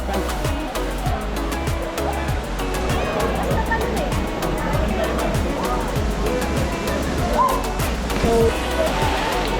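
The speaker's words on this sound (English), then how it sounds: "You can almost hear the sounds of the waterfall and people screaming." Kawasan Falls in the Philippines roars as a dense, continuous rush of falling water, with distant people shouting and screaming mixed into the steady wash at a natural swimming spot.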